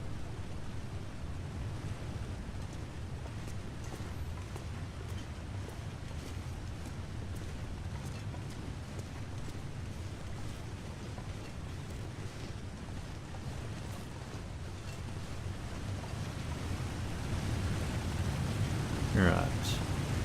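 Steady wind roars across a snowy wilderness in The Long Dark after a night blizzard, a continuous broadband rush that holds evenly throughout and swells slightly toward the end.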